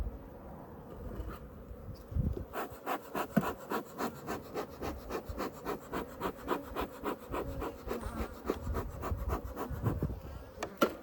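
Agitated Africanized honey bees buzz loudly and continuously around a hive, the dense drone pulsing in a fast rhythmic pattern of repeated surges, close and without any talk.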